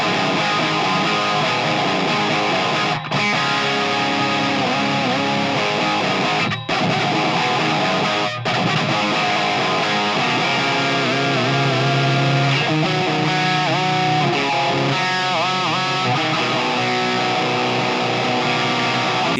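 Gritty, fizzy distorted electric guitar through the ToneX Brown Sound 82 preset, played continuously and loud with sustained chords and brief pauses, no talking.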